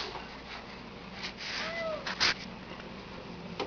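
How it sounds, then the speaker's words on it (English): A new kitty in a busy home with young children gives a short, rising meow over a low indoor background, with some faint thumps and knocks around it. "That was our new kitty, who is really not liking it here very much."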